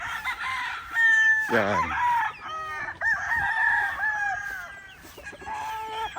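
Young gamefowl chicks and chickens chirp and cluck close by, with a rooster crowing loudly in between, and someone speaks briefly.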